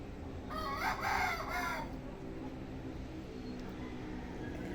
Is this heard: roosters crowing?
yes